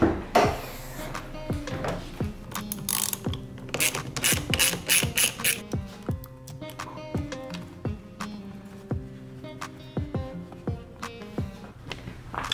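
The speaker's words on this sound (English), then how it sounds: "the first thing we gotta do is disconnect our battery" Metallic clicks, ratcheting and clanks from disconnecting the battery terminal on a twin turbo Mustang, sharp close taps in irregular bursts with brief pauses.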